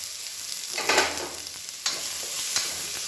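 Onions cut lengthwise stirred lightly in a pan for millet vegetable kanji, a soft steady sizzle with a few clinks of a spoon against the pan, close and alone with no talk.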